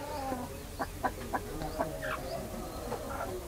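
Berasa breed hens, heavy double-bodied birds, cluck in short, soft bursts, several calls scattered over a steady outdoor background, moderately close.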